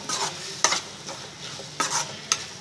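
Soft tomatoes cooking down in a pan for onion-tomato pachadi are stirred with a utensil, a low steady sizzle broken by several sharp scraping strokes against the pan, close with no talk.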